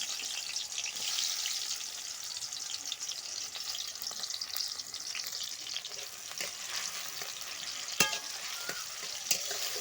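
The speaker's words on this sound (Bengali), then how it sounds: "তেলের উপরে শুধুমাত্র টমেটো কুচিটা দিয়ে দিচ্ছি দিয়ে ভালোভাবে ভেজে নেব" Chopped tomato fries in oil for a loté fish and potato dish, a close continuous sizzle with crackles and occasional clicks of stirring.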